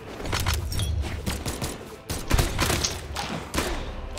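Guns firing in the video game Brawlhalla, a dense rattling fusillade of rapid shots and thuds, loud and continuous with brief dips.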